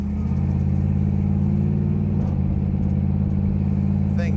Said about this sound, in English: It's got a fantastic sound and exhaust system on it.